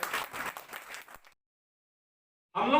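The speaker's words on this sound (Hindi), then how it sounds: "आप सभी से आग्रह है, जोरदार तालियां।" Applause from an audience at an insurance branch meeting comes in a dense burst for just over a second, stops abruptly, and returns strongly near the end.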